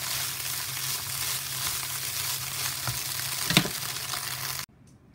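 A vegan potato scramble crisping in a frying pan gives a steady, close sizzle with a brief louder crackle midway before the sound suddenly drops away near the end.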